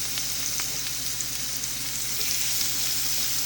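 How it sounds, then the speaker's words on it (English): Pork belly sizzles steadily in a frying pan, a constant crackling hiss with small pops, close and moderately quiet, with no voices over it. "Pork belly in the frying pan in the morning."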